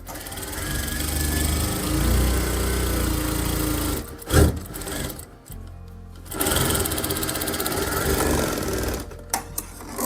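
Sewing machine stitching pleats into a lined shirt, running in long steady bursts with brief pauses between them, close and loud with no talk.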